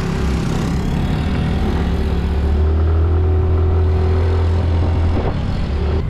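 Motorbike riding along a warm road in Palawan, a steady close engine hum with a rattling clatter underneath, loud and unbroken, no speech.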